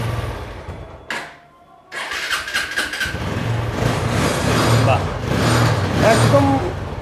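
A used Yamaha motorcycle cranks and fires up after a brief pause, then idles and revs with a steady rough engine note, close by, with a voice talking over it.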